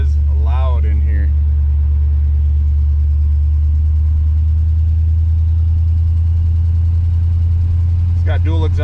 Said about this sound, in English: It's got dual exhaust that dumps off just behind the passenger seat.